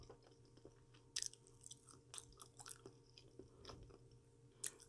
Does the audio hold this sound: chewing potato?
yes